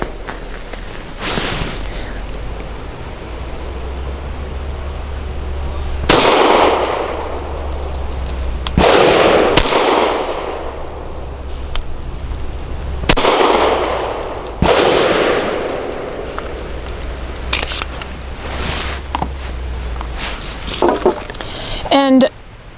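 A Walther PDP 4-inch Compact pistol firing Archon 124-grain black nickel-plated jacketed hollow points, with several loud, sharp shots spaced a few seconds apart, each followed by a short ringing decay over a steady low outdoor rumble.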